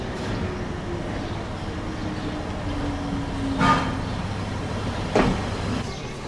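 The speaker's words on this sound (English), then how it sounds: "Our train is here." Passenger train pulling into a station, a steady low rumble with a long drawn tone and two brief louder clanks or hisses late on, fairly close, no talk.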